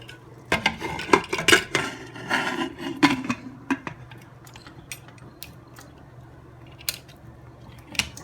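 A lid set onto a cooking pot after two cups of water go into fried masala chops, a few clanking metal knocks and scrapes near the start, then quieter scattered clicks in a home kitchen.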